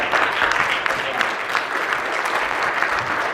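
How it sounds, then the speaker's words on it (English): A room full of people applauding Chris and Steph, dense, sustained clapping that stays fairly loud and even from start to finish without a break. "But can we get a round of applause for Chris and Steph?"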